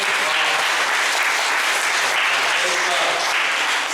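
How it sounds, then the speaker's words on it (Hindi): Church congregation claps loudly and steadily, a dense, even wash of applause that fills the room from start to finish. "तो क्यों ना फिर से एक बार हम खुद के लिए जोरदार ताली बजाते हैं।"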